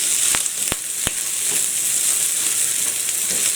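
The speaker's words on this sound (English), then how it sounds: "So let the ham cook away in there." Ham fries in a pan alongside sausages, giving a loud, steady, close sizzle with a few sharp pops and spits near the start.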